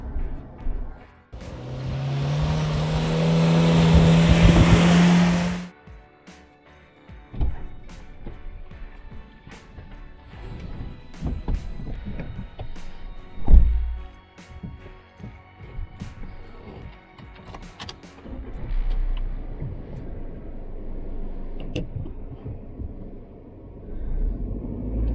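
A Suzuki Jimny drives off-road. The engine revs in a loud burst at the start, followed by low rumbling, creaking and knocks from the vehicle crawling over rough terrain, with occasional louder thumps.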